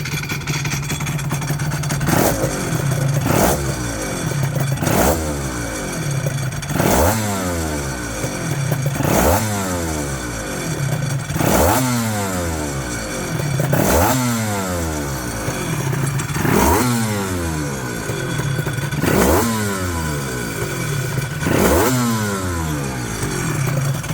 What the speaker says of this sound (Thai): มาลองฟังเสียงเบิ้ลกันนิดนึง